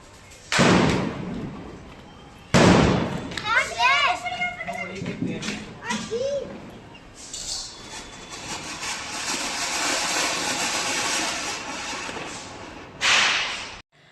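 Sharp loud Diwali firecracker bangs burst a few seconds apart, with children shouting and squealing between them and a long crackling fizz in the middle.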